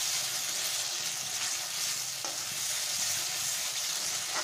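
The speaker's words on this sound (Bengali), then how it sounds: "আবারও আমি মশলাটার সঙ্গে এটা কষে নেব" Spices frying in a pan for a cauliflower and egg curry, a dense continuous sizzle close up with a few faint stirring scrapes and no talking.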